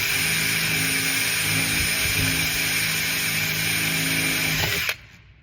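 A power drill whirs steadily in a 7mm pilot hole in a broken no-throw fishing pole, a loud, close, continuous whine that stops abruptly near the end.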